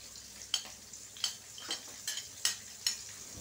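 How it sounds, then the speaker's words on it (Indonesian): Sliced shallots and garlic stirred and frying in a pan, a soft steady sizzle punctuated by about six scraping stirs of a utensil against the pan, close and fairly quiet. "Kita tumis bawang merah dan bawang putihnya sampai harum."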